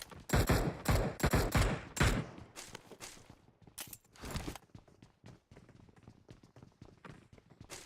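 Bursts of gunfire in PUBG Mobile, several rapid volleys up front and then scattered single shots and short bursts, loud at first and thinning out, with no talk over them.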